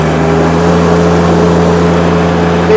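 Close, loud engine drone from a John Deere X950R diesel ride-on mower tractor as the power is cranked up, holding a steady raised pitch with no talk.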